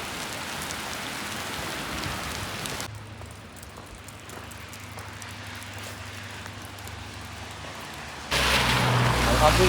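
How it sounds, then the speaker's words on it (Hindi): Rain falling in Kumrat Valley, a steady hiss of drops pattering on surfaces close by, briefly duller in the middle then louder again at the end. "ये बारिश दिख रही है, सही क्लियर दिख रही है माशाल्लाह"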